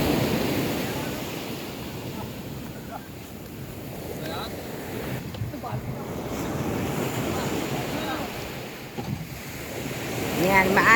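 Rough sea waves wash and surge near beached fishing boats, a continuous near roar of surf mixed with wind noise on the mic, while people talk now and then over it.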